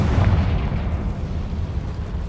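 A Confringo fire spell from Hogwarts Legacy bursts with a deep, close boom, then rumbles and crackles as it fades over about two seconds.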